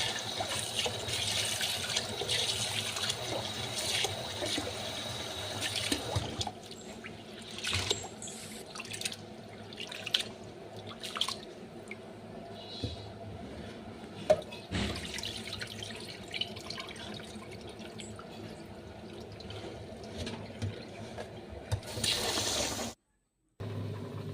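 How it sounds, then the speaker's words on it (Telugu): Rice is washed in water in a kitchen with a steady rush of tap water and sloshing, dribbling liquid, close and fairly loud, followed by quieter swishing and splashes before a brief cutoff. "రైస్ ఒక టూ టైమ్స్ త్రీ టైమ్స్ అలా కడిగితే సరిపోతుంది"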